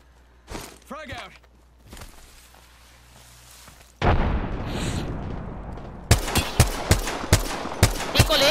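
Grenade explosion and gunfire in an Apex Legends match: scattered shots, then a loud blast with a rumbling tail, followed by a rapid string of sharp gunshots, with player voices talking over the action.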